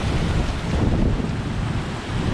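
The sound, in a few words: strong wind and rough sea waves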